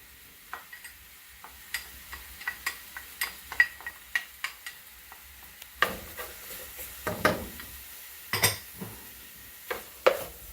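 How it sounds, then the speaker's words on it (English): Peppers, onions, scallion and fresh thyme sautéing in a pan, with a soft background sizzle under repeated sharp taps and scrapes of a utensil stirring, some brief bursts of louder crackle. "I'm just gonna let the peppers and the onions and the scallion and the thyme saute"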